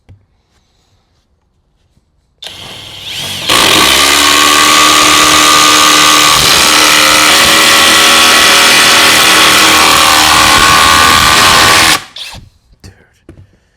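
A power tool drives a 5-inch, half-inch lag bolt, starting with a brief lower whir and then jumping to a loud, steady high-pitched motor whine held for about eight seconds before cutting off, followed by a few clunks.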